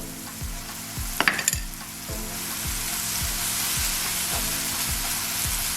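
Sliced banana fries in butter with sugar in a pan, a loud continuous sizzle up close, with a brief burst of clinking utensil sounds early on and regular low thumps throughout; no talking.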